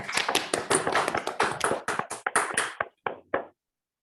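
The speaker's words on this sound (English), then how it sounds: "So let's do a round of applause for Judy" Sparse applause after an academic talk, a small group of distinct individual claps, close and uneven, thinning to a few last claps before silence.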